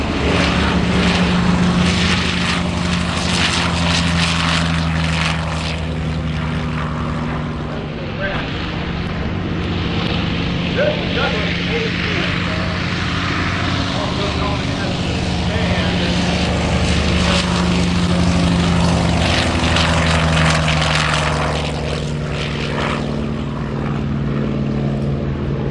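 A Douglas A-1 Skyraider propeller aircraft roars continuously at the EAA AirVenture Oshkosh airshow, a loud droning engine with a steady low hum, buffeted by wind noise throughout, with a crowd faintly audible underneath.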